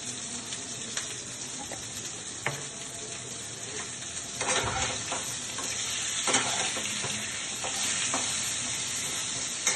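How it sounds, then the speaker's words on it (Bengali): Potatoes frying with salt and turmeric in a wok give a steady sizzle with occasional stirring scrapes, growing a bit louder midway, with no talk. "নুন হলুদ দিয়ে আলুটা ভাজছি এখন"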